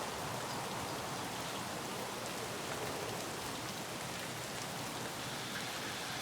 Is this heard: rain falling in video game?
yes